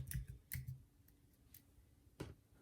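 A few sparse key clicks on a computer keyboard, typing out a store name in a short burst; three or four distinct taps spread across a quiet background, fairly close and soft.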